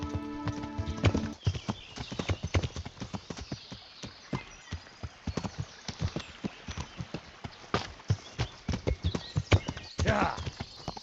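Horse hooves clip-clop in a steady walking rhythm in the medieval video game Kingdom Come Deliverance, close and fairly loud, with a brief whinny near the start and game sounds around it.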